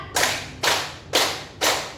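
Four evenly spaced, sharp group hand claps ring out in unison in a classroom ice-breaker, each burst close and crisp with a short tail, separated by brief pauses.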